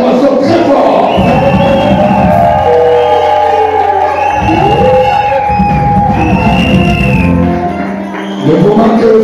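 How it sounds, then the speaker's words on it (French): A crowd at a French-speaking religious gathering shouts and cheers loudly and continuously, voices layered into a dense roar with rising cries throughout, briefly dipping near the end before surging again. "nous donnons des cris et des acclamations très forts"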